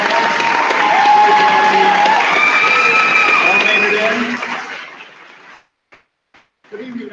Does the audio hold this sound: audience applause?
yes